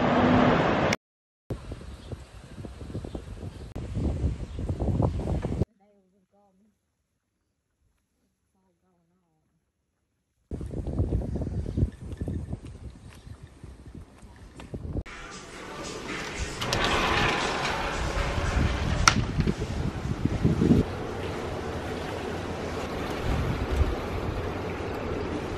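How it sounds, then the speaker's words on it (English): Strong wind on Kos, Greece buffets the microphone in loud, roaring gusts, broken by a sudden near-silent gap before the blustery rush returns even harder. "Probably can't hear me because it's so windy."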